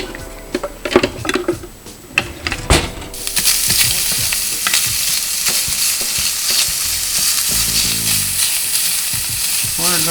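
Italian sausage browns in a hot pan with a steady, close sizzle and crackle, after a few opening clinks and stirring knocks of a utensil against the pan.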